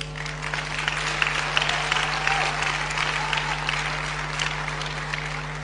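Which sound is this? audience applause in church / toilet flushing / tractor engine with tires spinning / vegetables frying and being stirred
audience applause in church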